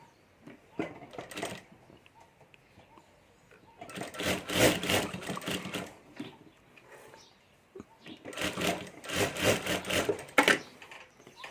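A sewing machine stitching down the centre of a purse pocket gives a few short rattling taps, then two longer, louder bursts of rapid mechanical stitching separated by a quiet pause.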